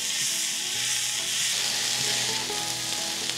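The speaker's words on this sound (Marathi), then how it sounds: "आता हा कांदा आहे ना छान भाजून घ्यायचा, मस्त असा तांबूस रंग येईस्तोवर" Onion fries with salt in a pan, giving a dense, steady sizzle close up with faint stirring movement and no voices throughout.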